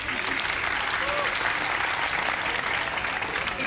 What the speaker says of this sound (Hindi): एक बार तालियां तो बजाइए